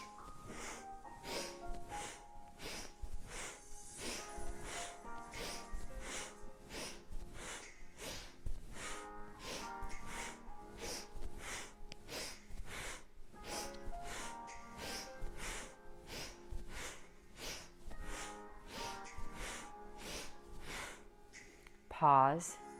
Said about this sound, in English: take one deep breath in and one deep breath out